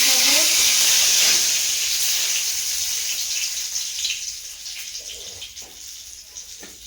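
Oil hissing and sizzling in a hot wok in a home kitchen, a bright steady sizzle that gradually fades, with faint clatters near the end.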